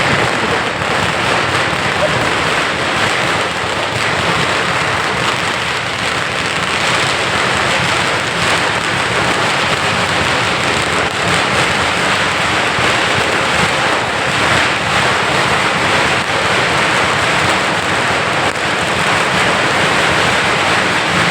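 A large crowd at a political rally in Phaltan applauds Rural Development Minister Jaykumar Gore, a dense, steady roar of clapping that stays loud and unbroken throughout.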